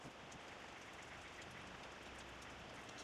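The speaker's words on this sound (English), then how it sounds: "Here comes the rain again." Steady rain falling outdoors at a Harley motorcycle shoot, a constant, even hiss of drops on surfaces with no letup and no voices.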